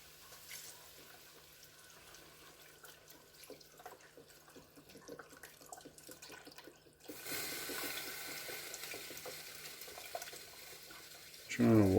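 A whole box of chicken stock is poured into a pot for chicken and dumplings. A faint, steady liquid pour grows fuller partway through and ends in a louder splash or knock.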